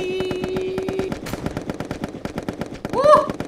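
Rapid gunfire bursts from a sniping match in the party video game Pummel Party, repeated sharp cracks throughout with a tonal electronic hum at the start and a game effect near the end.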